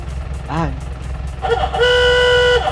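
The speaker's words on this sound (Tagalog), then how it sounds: "ang paborito ko dito, itong kanyang busina" A 1932 Ford Sports Coupe horn toots twice, a short honk then a longer sustained blare, over a low engine rumble and background voices.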